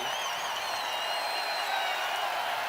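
Arena crowd at a New Mexico vs Boise State college basketball game rising in sustained cheering and applause, a bright continuous roar with whistles and shouts poking through, moderately loud throughout.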